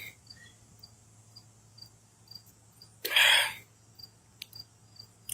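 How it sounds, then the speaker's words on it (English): Crickets chirp in the background, a faint, steady high-pitched trill over a low hum, broken by one loud rushing burst partway through. "crickets in the background."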